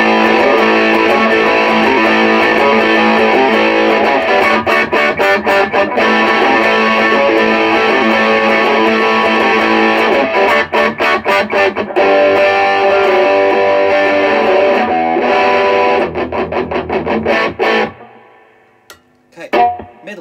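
Loud, overdriven Les Paul electric guitar drenched in reverb, playing dense sustained chords with rhythmic stabs for about eighteen seconds before cutting off and ringing out.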